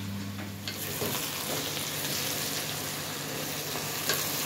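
Peppers sautéing in a pan with a continuous close sizzle and occasional stirring scrapes, no talking.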